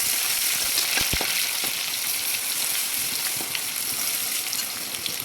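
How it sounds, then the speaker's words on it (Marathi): Cumin seeds and ginger-garlic paste sizzling in hot oil, a loud, dense, continuous frying hiss with scattered pops and crackles near the start, steady throughout with no talking. "त्यानंतर आपल्याला यामध्ये टाकायचे आहे जिरे आणि आपण ही जी आलं लसूणची पेस्ट बनवली होती ती यामध्ये टाकायची आहे"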